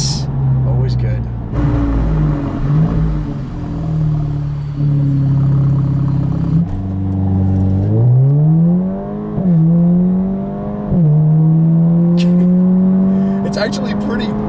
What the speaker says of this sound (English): That little burble, that just makes you think that you're in a way more powerful car than you really are